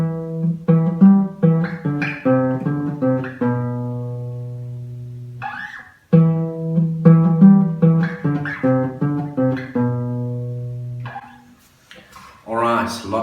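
A guitar plays an iconic riff in full, with picked notes ringing out and sustaining, two repeated phrases that each end on a held, ringing note, loud and clear.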